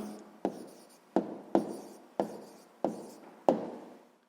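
A pen writes an answer in a sixth-grade maths exercise, producing seven sharp taps or strokes at irregular intervals, each fading quickly, close and fairly quiet with no talk.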